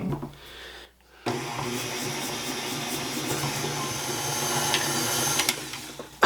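An electric mixer beats softened butter and sugar in a bowl for biscotti dough, a steady close whirring drone that runs almost throughout after a brief pause near the start.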